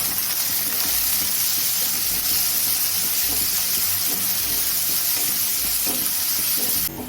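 Chopped radish and coconut sizzle steadily in a hot pan, a constant bright frying hiss with occasional stirring scrapes, no talking.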